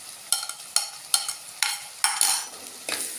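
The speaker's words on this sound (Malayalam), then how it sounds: "എല്ലാം കൂടി നന്നായിട്ട് ഇളക്കുക." Ginger, garlic, green chilli and curry leaves stirred in an oiled pan, a spoon scraping in about seven regular sweeps, each a bright, close, sizzling scrape against the pan with soft frying between.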